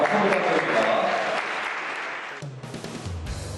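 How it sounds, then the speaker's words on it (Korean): Audience applause breaking out at the start of a Korean science creation competition, dense and loud at first, then thinning as a voice and low tones come in toward the end. "박수 부탁드립니다"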